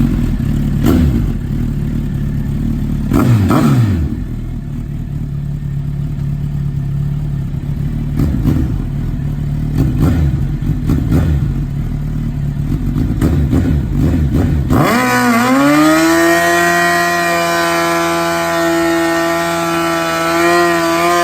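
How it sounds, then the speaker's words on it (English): Motorcycle fitted with a Brock's Performance exhaust doing a burnout at a drag testing facility, a loud, sustained engine roar that rises into a steady high rev near the end, with tire scrub underneath and no talking. "Now let's hear a mean Brock's burnout at the undisclosed CycleDrag.com testing facility."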